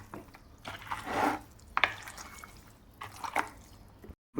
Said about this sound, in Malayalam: ഇനി ഒരു കൈ കൊണ്ട് നന്നായിട്ട് മിക്സ് ചെയ്യണം